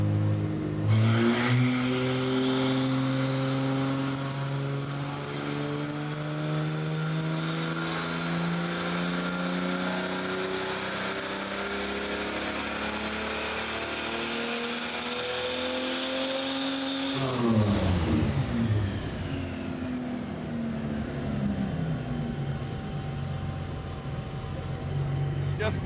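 A turbocharged Ford 300 inline-six in a flatbed truck runs under load on a dyno, engine note climbing steadily in pitch for a long sweep before dropping off, loud and continuous with voices talking over it.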